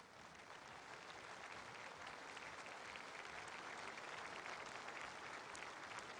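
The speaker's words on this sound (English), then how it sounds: "the People's Liberation Army are marching out, being warmly applauded" An audience in a hall at the 1997 Hong Kong handover ceremony applauds the People's Liberation Army as they march out: an even, continuous wash of clapping, fairly faint and distant.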